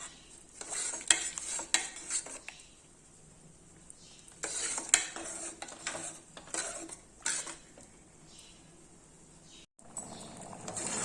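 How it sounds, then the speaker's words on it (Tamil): A metal ladle presses and stirs cooked dal (lentils) in a pot, giving close clinks and scrapes in short bursts separated by quiet pauses. "நல்லா கரண்டி வச்சு லைட்டாக ப்ரெஸ் பண்ணி விட்டாலே நல்லா வந்து கடைஞ்ச மாதிரி ஆயிடும்."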